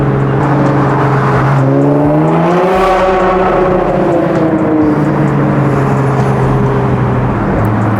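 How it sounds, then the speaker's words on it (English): Catless full bolt-on Nissan GT-R R35 engine downshifting, with a loud, close exhaust roar and rising rev blips, pitch climbing and falling across repeated throttle bursts. "Those downshifts sound so good."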